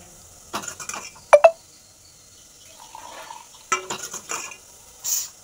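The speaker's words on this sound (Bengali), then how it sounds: "চা ছেঁকে নিচ্ছি" Tea being strained, with brief clinks of a metal strainer and cup, a soft pour and splashing in between, close up in a quiet kitchen with no talk.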